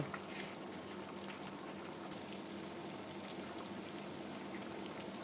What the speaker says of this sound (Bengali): এভাবে করে উল্টিয়ে পাল্টিয়ে আমি এটা কালার করে ভেজে নেব।